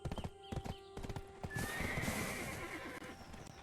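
Horse hooves clip-clop in a quick rhythm early on, then a loud, high whinny rings out over a rushing wash of sound, from the horse-taming and horse-market scenes of the online game Black Desert Online.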